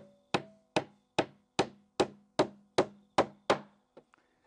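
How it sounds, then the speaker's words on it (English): Nails hammered into an old wooden pallet, nine evenly spaced sharp blows ringing close and loud, followed by a couple of lighter taps. "we'll just put a few nails here to hold her in."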